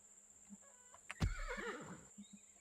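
A horse in the farming video game Farmer's Life gives a single loud whinny that rises and trails off, with faint clip-clop and game ambience around it.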